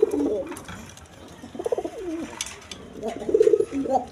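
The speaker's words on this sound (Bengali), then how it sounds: "এখানে এক পেয়ার কবুতর আছে। দেখেন কিং কবুতর," Colouring golla Giribaz pigeons coo close by in several rolling, throaty bursts, separated by short pauses over a quiet background.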